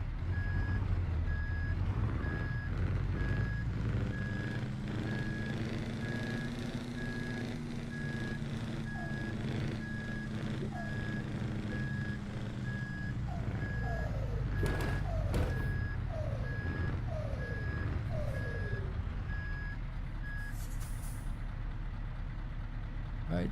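Truck reversing beeps from Euro Truck Simulator 2 repeat steadily through most of the stretch over a constant low engine rumble while the truck backs into a delivery spot, with a few brief knocks and clicks near the end.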